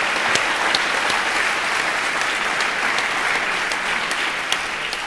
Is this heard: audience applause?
yes